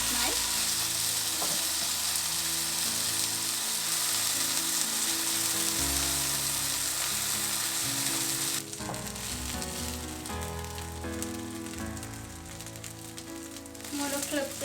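Rava uttapam sizzling hard in a hot pan right after being flipped, a loud continuous crackle and frying hiss that eases a little partway through, with faint low background sounds and no clear talking.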